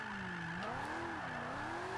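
A car drifting in the video game Forza 5, engine note swooping up and down with throttle and a steady tire squeal running throughout, moderately quiet and continuous.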